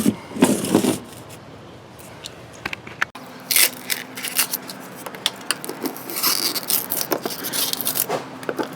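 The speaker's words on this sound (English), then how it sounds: "I'm going to take a utility knife here and run this along the foam here" Foam freshly cut with a utility knife is peeled out of an RV furnace access panel opening, giving close, crackly scraping and rubbing bursts that come and go irregularly over a low background hum.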